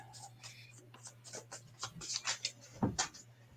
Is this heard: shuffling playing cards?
yes